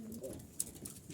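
Jalali pigeons cooing softly inside a loft, a brief low burbling call with a light flutter or tap partway through, quiet and near.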